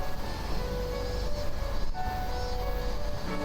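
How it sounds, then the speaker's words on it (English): Distant train running in the video game Hakuchuumu no Aojashin, a steady low rumble with a faint whine and hum, continuous and muffled by distance. "From a distance, I could hear the sound of a train running."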